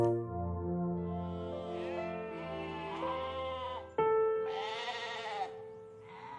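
Sheep bleat in long, wavering, nasal calls, several voices overlapping with one louder, closer bleat starting partway through, and no talking.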